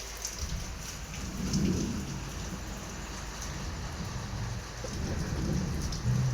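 Steady rain pours on surfaces with low rolling thunder rumbling underneath, fairly quiet and continuous, the downpour even throughout and the thunder swelling in a few places.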